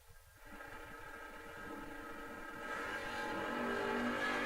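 The Buchanan Brothers Mustang races at a no-box drag racing event. Its engine note rises steadily from a low rumble to a loud, buzzing high-rev roar over a few seconds, heard at a distance, with no talking.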